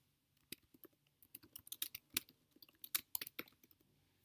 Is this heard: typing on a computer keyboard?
yes